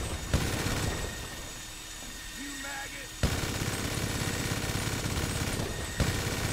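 Minigun fire in GTA 5 rattles in a loud, dense, continuous stream, cutting out briefly around a second of quieter game ambience before resuming at full volume, with a voice talking under the din.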